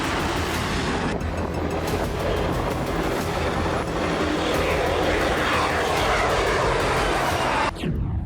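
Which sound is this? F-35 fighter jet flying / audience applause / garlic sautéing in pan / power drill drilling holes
F-35 fighter jet flying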